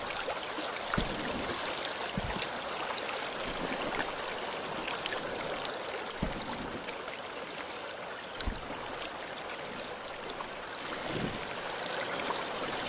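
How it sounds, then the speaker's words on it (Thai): Strong, fast-flowing water rushes steadily near Inunaki Tunnel, a loud continuous near stream roar broken by a few soft knocks, with no voices. "น้ำไหลเชี่ยวแรงมากเลย"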